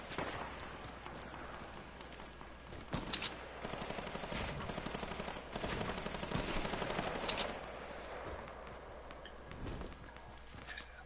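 Fortnite gunfire: bursts of rapid automatic shots crackling over a steady background, with several louder bangs standing out and quieter footstep-like taps between, no talk.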